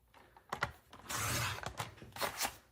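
A paper trimmer slices through an 8.5-inch sheet of paper, heard as a short raspy cutting swipe between small clicks and handling noises, close and fairly quiet.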